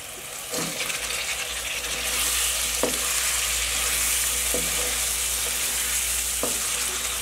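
Continuous loud sizzling of boiled mutton frying in a hot wok, with occasional clinks and scrapes of stirring.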